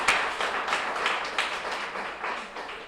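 An audience at a food bank announcement gives a short burst of applause, a dense patter of many hands clapping, moderately loud and fading slightly toward the end.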